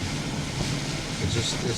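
Hurricane Juan's winds and surf batter Halifax, making a loud, steady roar of wind noise and crashing water with no break.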